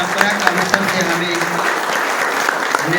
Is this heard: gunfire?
no